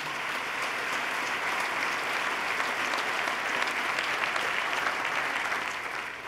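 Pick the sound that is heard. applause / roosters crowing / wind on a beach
applause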